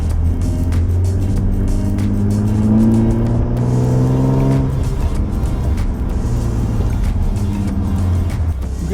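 2017 Ford Mustang V6 (S550) driving, its engine droning loud and steady with rising and falling revs as it accelerates, heard from close by.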